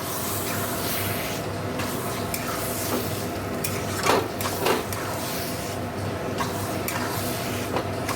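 Dal curry is sautéed with cumin, coriander, Kashmiri chilli powder, sugar and garam masala in a pan. A steady close sizzle runs throughout, with occasional spoon scrapes and clinks over it and no talking.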